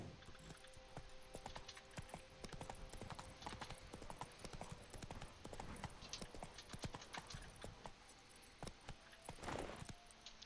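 The horse Roach trots in The Witcher 3: Blood and Wine, hooves clip-clopping in a steady rhythm close by, with jangling tack and a faint whinny near the end.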